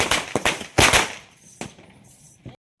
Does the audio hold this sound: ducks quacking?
no